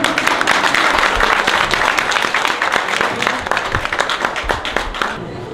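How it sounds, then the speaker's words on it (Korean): An audience at an art exhibition opening applauds with dense, loud clapping that gradually thins into scattered claps before fading. "박수 한번 주십시오."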